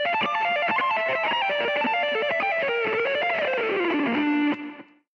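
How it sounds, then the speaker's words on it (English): Second part of an arpeggio sequence on a heavily distorted electric guitar, a rapid cascading run sliding downward into a sustained note before stopping abruptly, close and loud, no voices. "And so the second part would sound like this"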